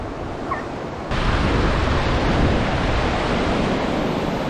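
Ocean waves wash onto a rocky, pebbly beach in Tasmania, a broad steady roar of surf that swells suddenly louder partway through and stays full and close, with wind buffeting the mic and no talk.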